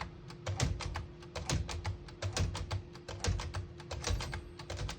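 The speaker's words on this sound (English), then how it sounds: "we're going to clear each one of those real quick by hitting the tab button and then hitting the CL next to it" Keys clack in a steady series on a 1957 Smith-Corona Silent-Super portable typewriter as the tab and clear keys are pressed in turn, each press a sharp close mechanical snap with a low thump, about two per second.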